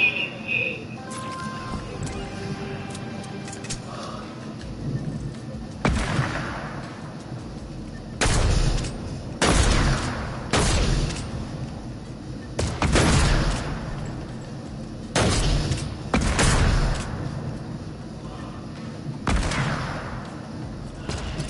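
Sniper rifles fire in a Fortnite match, a series of loud, sharp cracks spaced a few seconds apart with booming echoes, some close together, over a background of game sounds.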